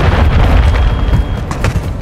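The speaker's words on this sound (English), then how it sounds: "Hostile cruise missile incoming." A cruise missile blast in Call of Duty Modern Warfare 3 multiplayer on PS5, a loud, sustained low rumbling boom that fills the whole moment without any voices.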